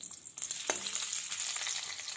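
Onion fries in a little oil in a wok, a close, steady sizzle that starts abruptly after a brief quiet moment and continues with faint stirring scrapes.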